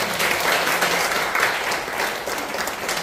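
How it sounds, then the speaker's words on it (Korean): Warm, sustained audience applause after a lecture at a church teachers' training session, filling the whole stretch steadily and close by with no talk over it. "뜨거운 박수 부탁드립니다."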